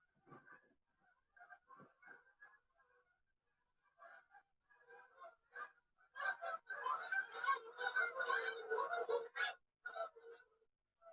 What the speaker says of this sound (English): It's a gaggle of geese. There's just no need for them making that noise while they fly.